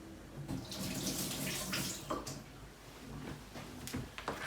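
Tomatoes are rinsed under a running kitchen tap, a close, steady splashing stream with brief clatters and knocks as the fruit is handled.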